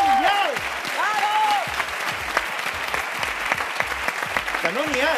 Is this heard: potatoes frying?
no